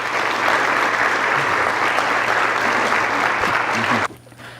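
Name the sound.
congregation applauding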